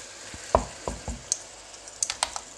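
Beef with peppers and a splash of rice wine is stirred in a hot pan: a few quiet, uneven spatula scrapes and clacks over a low sizzle, with no talking.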